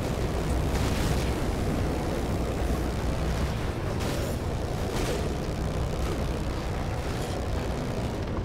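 A dense, sustained roaring rumble from an explosion in Dead Rising 3, loud and broad with a few brief bursts rising within it, no voices.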